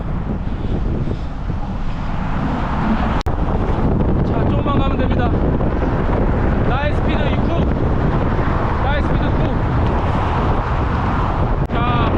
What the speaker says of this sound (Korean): 맞바람에 오 바람 바람 장난 아니고